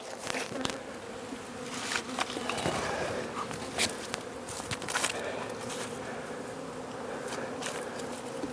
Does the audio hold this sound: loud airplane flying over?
no